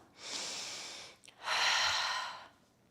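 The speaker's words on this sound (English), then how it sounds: "You can breathe in through your nose and out of your mouth." Two slow breaths in a home workout session: a soft inhale through the nose, a brief pause, then a longer, fuller exhale out through the mouth, close and quiet with no talking.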